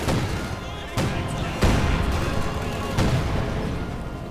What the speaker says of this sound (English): As soon as it's within range of the crew, they set about unloading as much high explosives from the north above as possible